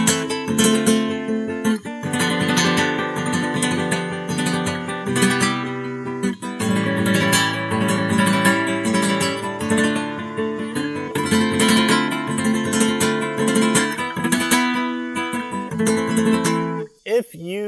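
Flamenco guitar strumming a busy rasgueado pattern in Solea Por Buleria, dense rhythmic chord flurries with sharp accents played loud and steady, followed by a short voice at the end.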